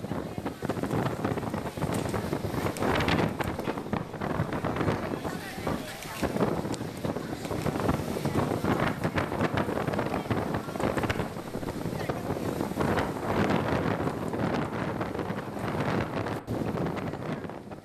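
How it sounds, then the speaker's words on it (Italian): Strong storm wind gusts in Treviso, Italy, batter the microphone with loud, continuous roaring and buffeting that surges and falls for the whole stretch. "Sentite il vento."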